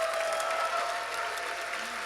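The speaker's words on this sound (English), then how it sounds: "Let's have some applause for our participants" Audience applause in a main theater show at a PAX West 2024 gaming convention, heard as a steady, dense clatter of clapping from a large crowd that holds throughout, with no talk.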